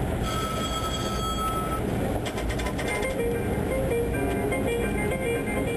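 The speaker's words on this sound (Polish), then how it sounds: "Zabytkowy drewniany pojazd rusza z placu Narutowicza" Historic wooden tram pulling away from Narutowicz Square in Warsaw, a steady rolling rumble with faint wheel and rail squeal, under continuous nearby talk.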